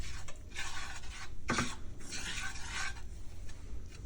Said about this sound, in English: I continue to stir until I get this consistency